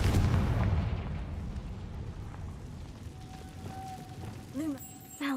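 A booming explosive burst from the Confringo spell in Hogwarts Legacy hits hard at the start and rumbles away over several seconds, with faint magical tones and a short chime near the end.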